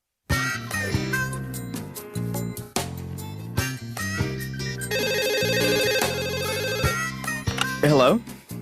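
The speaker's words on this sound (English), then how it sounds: "I expected Sarah to answer the phone" A telephone rings repeatedly in short bursts with gaps between them, loud and close, in an animated comedy scene, mixed with other tones and a brief voice near the end.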